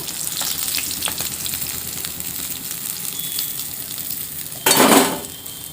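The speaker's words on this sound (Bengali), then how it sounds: "দেখুন লাল লাল করে মাছগুলো ভেজে নিয়েছি।" Silver carp pieces frying in oil sizzle steadily in a pan with light scattered pops, then a sudden loud hiss bursts up near the end before easing back down.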